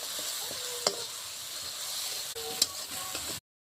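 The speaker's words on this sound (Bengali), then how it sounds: "আমি নাড়ছি এত সময় লাউ পাতা বাটা" Bottle gourd leaf paste being stirred in a pan makes a soft, quiet sizzle with a few sharp spatula clicks and scrapes, then stops abruptly near the end.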